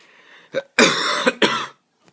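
A person with a lingering cough coughs close up, a short hack followed by two harsh, raspy bursts, then a faint trailing sound.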